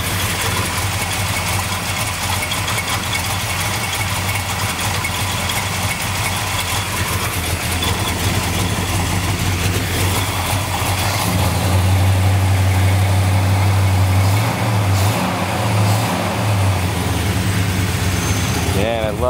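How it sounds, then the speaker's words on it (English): A restored 1964 Dodge 440 V8 with a 750 carburetor idles in ice-cold weather without a choke. It gives a loud, steady, deep rumble throughout, with a brief rise in pitch partway through and people talking over it. "even with no choke in ice cold weather, it still idles good"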